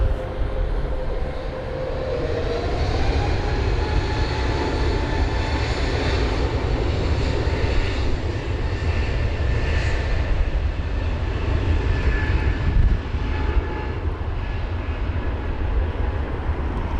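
An Airbus A320neo at London Heathrow during a storm gives a steady, loud engine roar with broadband wind rumble, the tone drifting slightly as it moves, continuous for the whole stretch.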